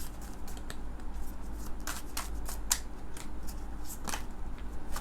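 A deck of tarot cards is shuffled in the hands during a reading, a continuous close riffling and flicking with crisp snaps, steady and moderately loud with no voices.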